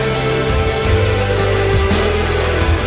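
A shoegaze song plays as a dense, loud wall of jangly guitar with a steady pulsing low end, and no one talks over it.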